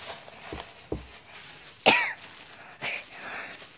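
Several separate coughs from a person, a few soft ones followed by a sharper, louder cough and one more after it, spaced out over a few seconds in a quiet room.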